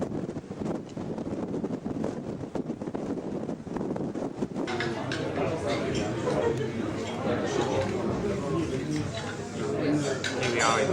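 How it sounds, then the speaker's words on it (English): Crowded pub bar at Sligachan on the Isle of Skye, with steady murmur of many voices and occasional clinks of glasses and dishes, growing busier and denser after a few seconds. "Here we are in the Sligachen Bar, having come down from Skernagillion southeast ridge"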